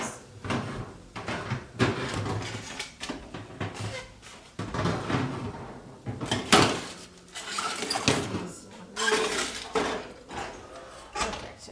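Oven racks are switched while butternut squash roasts, giving repeated metallic clanks, scrapes and rattles of racks and pans, close and fairly loud.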